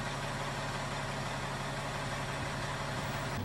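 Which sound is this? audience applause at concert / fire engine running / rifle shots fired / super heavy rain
fire engine running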